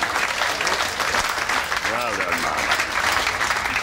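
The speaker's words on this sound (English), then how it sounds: "please give them a huge round of applause" Cruise ship audience on the Azura in the Western Mediterranean applauds a couple of passengers, steady dense clapping throughout with a voice talking over it.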